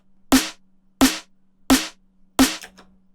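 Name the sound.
layered snare drum samples in Reason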